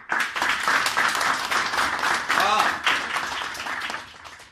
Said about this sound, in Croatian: Pa ja, evo, još jednim gromskim aplauzom da se zahvalim čovjeku.